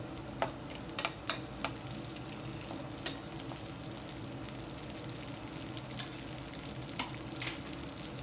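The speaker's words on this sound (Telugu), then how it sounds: "ముందుగా ఇందులో 7-8 పచ్చిమిర్చి ఇలా సగానికి చేసుకొని వేయించుకుందాము." Halved green chillies frying in about three spoons of oil in a pan, a steady close hiss with occasional sharp pops and crackles throughout, no talking.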